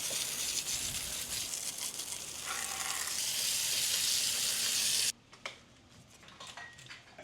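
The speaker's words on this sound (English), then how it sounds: "now let's go give it a good rinse" A loud, continuous hiss of water rinses a bike chain inside a Pedro's Chain Pig cleaner, then cuts off abruptly, leaving faint drips and small clatters.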